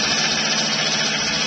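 A small engine runs at a steady, loud, high-pitched drone as it is revved during starting, with no speech over it.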